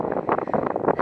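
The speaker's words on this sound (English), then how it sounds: "And it's windy." Wind buffets the microphone on top of Hurlstone Point, a coastal hilltop above the sea near Porlock, as a brief rumbling gusty roar, steady and close.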